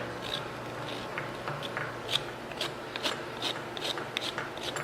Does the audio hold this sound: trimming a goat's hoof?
yes